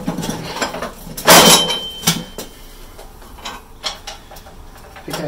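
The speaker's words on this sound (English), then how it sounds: "I'm gonna actually take this whole shaft out if it'll come." Drive shaft being worked loose from an Ariens snow blower: a loud metallic scrape and clunk near the start, then scattered clicks, taps and knocks of metal parts shifting, close by and without talk.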